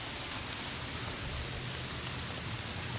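Steady rain falls outdoors around a small barn shack, a dense, continuous hiss of drops on surfaces, close and unbroken for the whole stretch with no voices.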